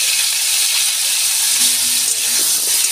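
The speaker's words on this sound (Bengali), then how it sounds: "আমার আলুটা ভাজা হয়ে গেছে, আমি তুলে নিচ্ছি।" Potatoes seasoned with salt and turmeric fry in hot oil, a loud, dense, continuous sizzle heard close up, with a few soft scraping knocks from stirring and no voices.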